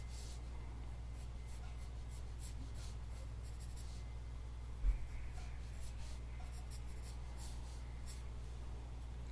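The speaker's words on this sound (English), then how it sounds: "Sketching the eye." A pencil sketches an eye on paper, with faint, soft scratching strokes under a steady low electrical hum and one brief soft bump midway through.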